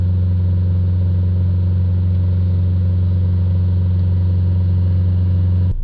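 Mercedes Vito diesel van engine held at a steady high revs around 3000 RPM during a blocked DPF cleaning, a loud, constant drone with a strong low hum and no voices, cutting off abruptly at the end.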